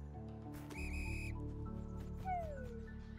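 Whistling in a game of Bread & Fred, a steady high tone that steps up, holds, then glides downward, over continuous game music and a low background hum.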